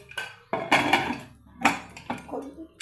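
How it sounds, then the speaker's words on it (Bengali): A pressure cooker is set onto a kitchen stove for cooking dal, giving several close, sharp metallic clanks and knocks of metal on metal, spaced irregularly with quiet gaps between them. "এবার আমি উনানে কুকারটা চাপিয়ে দেবো"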